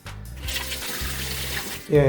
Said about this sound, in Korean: 물도 잘 나오고요.